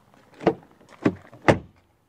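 Rear door of a MINI Aceman car shuts with solid thuds, three distinct close knocks spaced about half a second apart in quiet surroundings.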